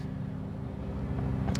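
Steady droning lawn mower engine from neighbors cutting grass nearby, a continuous mid-loud motor hum running throughout with no talking.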